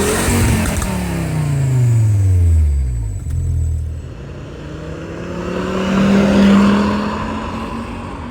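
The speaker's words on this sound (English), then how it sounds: "splits into a Euro Sport tuning catback exhaust that has seen better days" A 1998 Volvo V70R engine revs loud and close through a worn Euro Sport Tuning catback exhaust, rising and falling twice in long sweeps with a short drop between, no voices.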